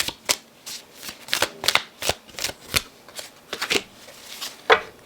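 Someone shuffles a deck of oracle cards during a tarot reading, producing a close series of quick riffling flutters and soft slaps in irregular bursts, with no voices.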